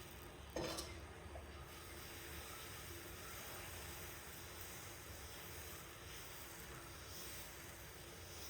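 Dosa batter on a hot pan in a home kitchen: a quiet, steady sizzling hiss follows a brief clink near the start and continues evenly for several seconds, with no talking.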